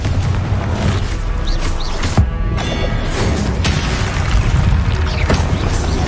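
The Confringo fire spell explodes in Hogwarts Legacy, a loud boom with a sharp burst near the two-second mark, set against continuous dense game sound and other spell effects.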